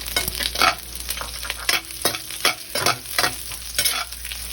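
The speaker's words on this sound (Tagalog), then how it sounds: "At kapag pumula na ang bawang, ihulog na natin kaagad ang sibuyas." Garlic and onion sauté in a hot pan, a steady sizzle under repeated scraping stirs that fall in a loose rhythm, close and clear with no talking.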